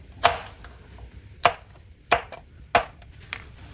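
A knife cutting okra on a board: four sharp, separate chops spaced about a second apart, close and clear against a quiet background.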